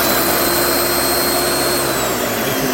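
A Harbor Freight Portland electric wood chipper runs steadily, a loud, constant whirring roar with a high motor whine that holds unchanged from start to finish.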